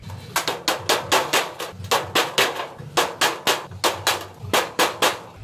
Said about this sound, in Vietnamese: mình dùng cái cây gỗ các bạn và búa ha, mình sẽ đóng cái cạnh này lên